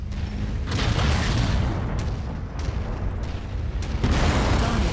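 Weapon fire striking a mech in MechWarrior 5: Mercenaries, heard as continuous heavy rumbling impacts and booms with sharper hits layered over a dense, loud battle roar.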